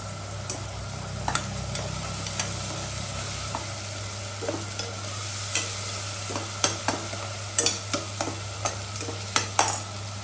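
Onions sizzle steadily in a pan of mutton curry with salt, turmeric, chilli and spice powders, while a spoon scrapes and stirs in sharp, irregular clicks over the continuous frying hiss; close and moderately quiet, with no talking.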